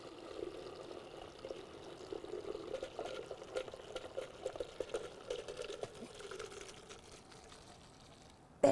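Water poured out of a pot of cooked noodles, a steady soft pouring and splashing stream running for several seconds, fairly quiet and close, with no talking over it.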